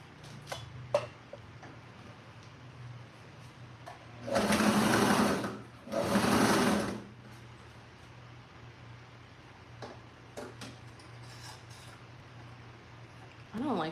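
A sewing machine stitching a bed pillow runs in two short bursts of about a second and a half each, separated by a brief pause, over a quiet room hum with faint scattered clicks.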